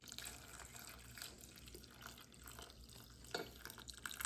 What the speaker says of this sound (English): we're going to pour this mixture of tea and lemonade in there